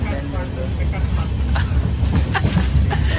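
A train running on rails during an express journey from Puttur toward Yeshwanthpur, Bengaluru, heard from on board as a steady low rumble that persists throughout, with faint clatter and voices talking above it.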